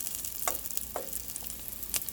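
Onions and potatoes frying in a pan, a soft steady sizzle under a few clattering stirs and scrapes of a utensil, close and moderately quiet with no talking.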